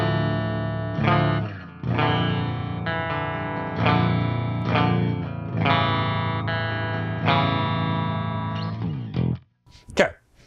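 Clean pickup test on a G4M baritone Bass VI guitar: several strummed chords and picked notes ring out and sustain near and loud, each followed by a short pause, ending with a few brief muted plucks.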